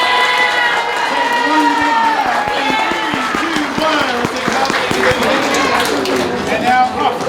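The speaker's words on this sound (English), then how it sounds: "more big round of applause for them" A crowd cheers and claps after a band performance at an evening school concert, with shouting and excited voices layered over scattered applause, close and loud throughout.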